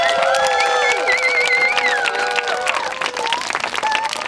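Loud crowd applause at a charity football tournament for referees and coaches, dense clapping mixed with cheering and high children's shouts and whistles, slowly thinning out toward the end.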